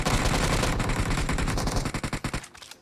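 Rapid automatic gunfire in PUBG Mobile, a dense loud burst of shots that slows into several distinct spaced cracks before cutting off into quiet.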